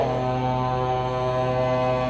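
A passing truck's horn blares in one long, steady, loud tone held for about two seconds, nearby and unbroken.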